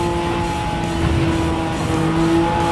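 Suzuki Jimny driving on the road, with a loud, steady engine drone and road roar heard from inside, holding a constant pitch.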